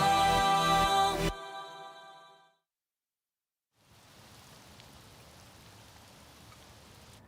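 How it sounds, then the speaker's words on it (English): Rain falls steadily in a soft, even hiss across a village after a music passage fades out and a moment of silence. "Ugh, it's rainy over here!"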